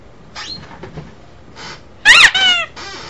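A squeaky dog toy gives a few soft, thin squeaks, then one loud, sharp, high squeak followed by a shorter one, heard close up in a quiet room.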